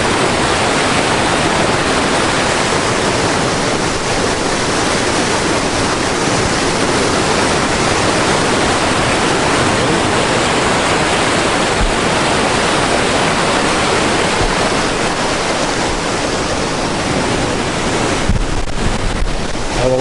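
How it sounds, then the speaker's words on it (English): Swollen Little Annan River rushing after a night of heavy rain, a loud, steady broadband roar of fast water close by, continuous for the whole stretch with some wind buffeting on the microphone. "This is the Little Annan River."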